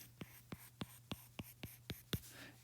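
A pen sketches short lines on paper in about eight regular strokes, each a soft, close scratch, evenly spaced against a faint steady hum and no talking.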